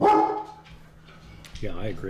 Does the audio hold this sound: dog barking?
yes